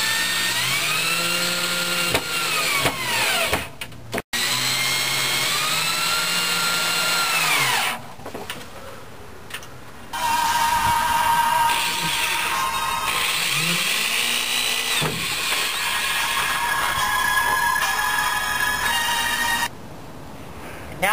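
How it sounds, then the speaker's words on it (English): A power tool drives screws into a converted military trailer, with repeated loud whirring bursts that rise and fall in pitch as each screw goes in, separated by brief pauses. "we're putting in screws"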